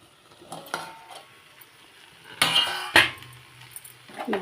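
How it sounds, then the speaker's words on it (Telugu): A metal lid goes onto a cooking pot of simmering vegetables for sambar, with a few light clinks followed by two sharper metallic clanks as it settles, close and without talk. "ఒకసారి మూత పెడదాం. మూత పెట్టి కాసేపు మగ్గనిద్దాం."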